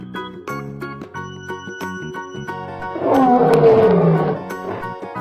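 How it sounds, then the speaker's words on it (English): A lion gives one deep, loud roar over a bright, tinkling chime melody, building and fading over a couple of seconds. "Lion."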